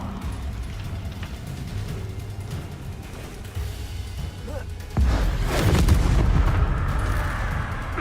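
In Hogwarts Legacy, the Incendio fire spell is cast, producing a heavy whooshing burst of flame that lands halfway through, over ongoing rumbling game noise and booms.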